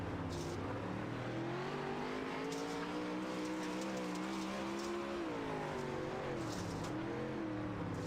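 Onboard the number 59 dirt track race car of Casey Gus at Kokomo, the engine drones and rises and falls in pitch through a lap, steady and loud with a couple of brief sharp noises near the start and end.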